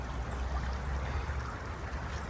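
Creek water flowing steadily outdoors on an urban trail in Asheville, North Carolina, a continuous close rushing wash with a strong low rumble and no voices.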